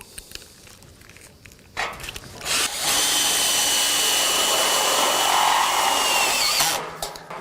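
Power screwdriver driving screws into a metal reinforcement profile on a terrace joist frame: a close, loud whirring drive that rises and holds steady for several seconds, then stops, with brief tool noise before it.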